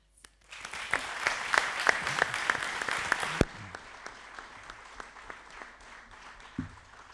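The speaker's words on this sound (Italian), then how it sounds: "credo che meriti davvero un grosso applauso" An audience at a book presentation breaks into dense applause that swells for a few seconds, then thins abruptly into scattered, fading claps.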